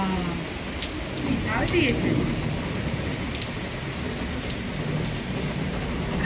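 Heavy rain pours steadily in a dense, even hiss on a balcony in Montreal, Canada, with wind blowing and a voice speaking briefly over it early on.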